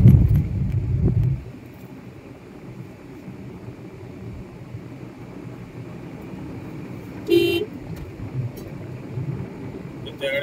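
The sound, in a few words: car horns honking on road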